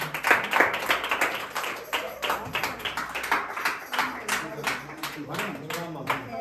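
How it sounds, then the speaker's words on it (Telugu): A church congregation at a consecration service claps hard and fast in a dense, continuous burst of many hands, with voices mixed in beneath the applause. "గట్టిగా చప్పట్లు కొట్టి లోపలికి వెళ్ళండి."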